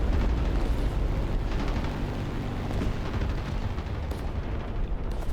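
A burning fighter plane crashing into houses in War Thunder, heard as a dense, loud, continuous roar of explosions and crackling fire that fills the whole stretch without pause.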